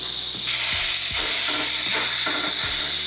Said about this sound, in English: Into the same skillet, I'm going to go and add in some sausage meat